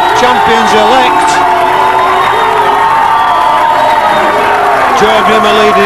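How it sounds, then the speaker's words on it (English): A rugby league stadium crowd roars and cheers as the teams run out at a Keighley Cougars versus Batley match in 1993, with music playing and a commentator talking over the steady wall of noise. "And listen to that crowd then receiving the champions-elect."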